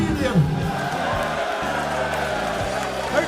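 Crowd noise at a wrestling-themed live show, with clapping and cheering from an audience, a dense steady wash mixed under music and talk.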